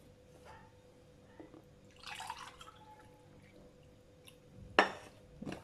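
Warm water poured into a bread dough mixture in a bowl, a faint splashing trickle in a quiet kitchen, followed by a few soft clinks and a short louder splash near the end.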